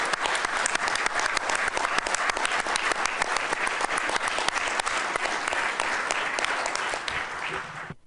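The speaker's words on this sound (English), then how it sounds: "I'll take that in a round of applause for our host." An audience claps loudly in sustained applause that fades out at the end.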